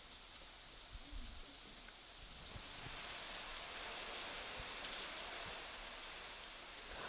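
Heavy monsoon rain falls in Raigad district, making a steady, even hiss of drops on surfaces that continues unbroken. The rain sounds rather soft and distant, with no talking.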